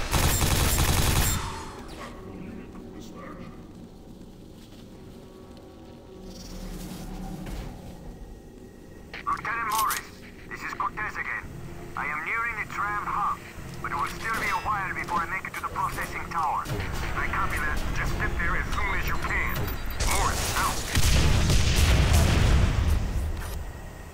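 Quake 4 gunfire bursts and explosions crackle in rapid clusters in the Tram Hub Station level, with a heavy boom near the end and talking mixed underneath.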